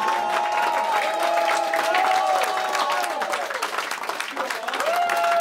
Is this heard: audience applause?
yes